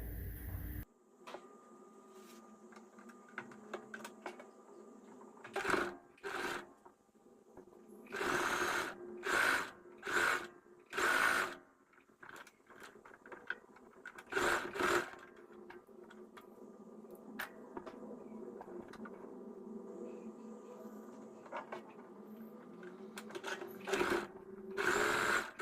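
A sewing machine stitches a puff sleeve blouse in repeated short bursts of rapid whirring, separated by quiet pauses with faint handling noises, close to the microphone.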